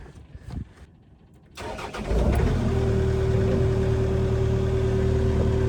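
A Takeuchi TB260 excavator's diesel engine turns over and catches, then settles into a loud, steady close-up idle with a constant low rumble and a sustained tonal hum.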